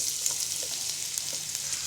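Half a cup of chopped onions fries in oil left over from frying bata fish, giving a brief, even, close hissing sizzle with no breaks.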